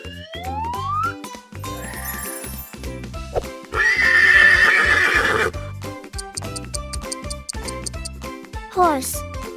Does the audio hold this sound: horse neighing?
yes